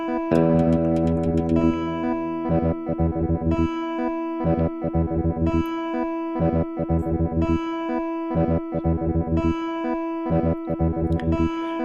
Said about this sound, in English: then you get those very short bursts of sound